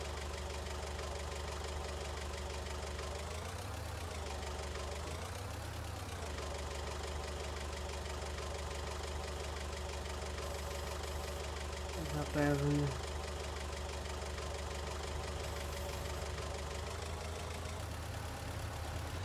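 A tractor engine idles in the farming game Farming Simulator 19, a steady low knocking rumble with a couple of brief revs, heard under people chatting over the game audio.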